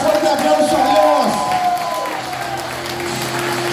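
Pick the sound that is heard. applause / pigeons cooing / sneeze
applause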